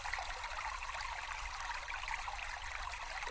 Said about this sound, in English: So I've got my waterfall here. And now I've got a little one in the middle.